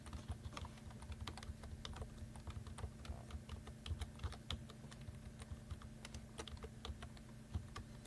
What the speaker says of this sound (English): So while Todd's typing